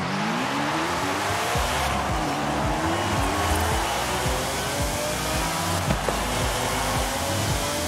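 Car from the racing game Forza Horizon 5 driving steadily, with a continuous engine drone and rising gear-shift harmonics, plus some tire noise, loud and close throughout without talk.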